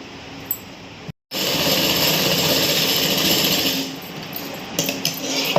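A sewing machine runs in a steady, fairly loud whir while stitching a pajama seam, starting after a brief silence and easing off near the end with a few small clicks.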